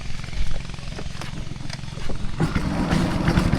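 A boat engine on a river trip toward Nafakhum in Bandarban starts up and settles into a steady low rumbling drone, with water and ambient noise around it.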